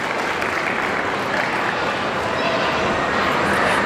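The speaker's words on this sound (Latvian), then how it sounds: "Aplausi Freidai un saimniecei." Audience applause at a pet expo breed demonstration, a steady, dense wash of clapping from a crowd, loud and even across the whole stretch.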